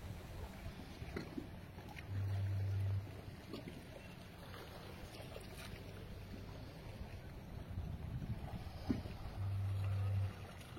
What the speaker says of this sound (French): je te laisse avec le bruit des vagues pour te détendre un peu